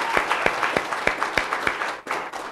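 At a community forum, an audience applauds for students, with a crowd's clapping close and moderately loud, punctuated by strong, regularly spaced claps and a brief dip just before the end.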